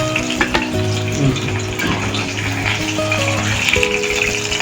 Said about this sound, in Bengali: মাছের ঝোলের মাছ বেশি কড়া করে ভাজি।